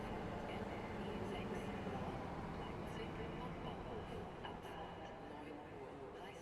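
A Class 642 diesel multiple unit in Train Sim World 6 rumbles steadily as it pulls away, a continuous low engine drone with faint clanks, heard close under a voice talking.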